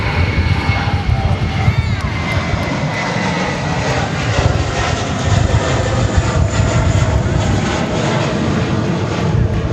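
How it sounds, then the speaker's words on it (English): An American Airlines Airbus A321 aborting its landing at Dallas Fort Worth airport gives off a loud, continuous engine roar that fills the scene, with a voice talking over it. "That was American Flight 1456 coming in from Salt Lake City, an Airbus A321."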